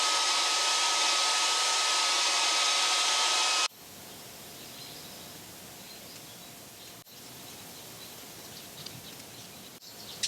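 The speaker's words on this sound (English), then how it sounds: "use a blow dryer or heat gun on a low setting to help soften the adhesive" A blow dryer or heat gun on a low setting softens adhesive on a motorcycle display, a loud steady airy whoosh for nearly four seconds that cuts off abruptly, leaving quiet room noise with faint chirps.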